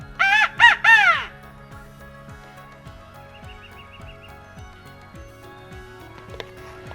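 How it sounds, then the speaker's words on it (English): A turkey hunter blows a crow call, giving a quick burst of three or four loud, harsh caws, then falls quiet against faint outdoor background noise with scattered light clicks. "Heath uses a crow call"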